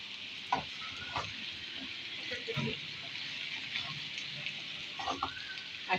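A spoon stirs aloo karela with tomatoes and coriander powder in a sizzling pan, giving soft scraping strokes at irregular intervals over a steady frying hiss, close up with no talk.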